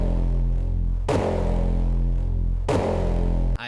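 A hardstyle kick drum sample played in Ableton Live: three heavy, distorted kicks, each with a sharp attack and a long booming pitched tail, spaced evenly and loud, with no other sounds.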